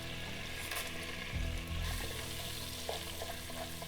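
Whole spices, crushed green and black cardamom among them, hit hot ghee, butter and oil in a pressure cooker, bursting into a close, loud sizzle that settles into steady frying crackle.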